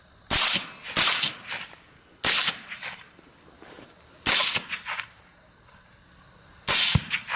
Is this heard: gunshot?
yes